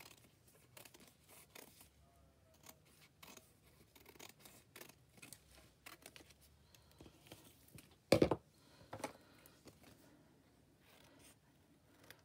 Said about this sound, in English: I might just take some of the bulk off with my big scissors first